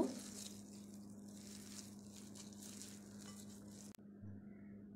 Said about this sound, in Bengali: খুব ভালোভাবে আমি এটা মাখিয়ে নেব